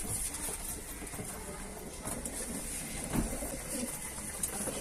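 Soft homing pigeon coos sound faintly on a balcony against a steady background hiss, with no voices present.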